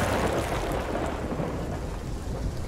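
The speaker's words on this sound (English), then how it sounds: "Okay, lightning wants to strike." A storm in the Sea of Thieves pirate video game sends a steady, heavy rumble of thunder mixed with dense rain, loud and continuous throughout.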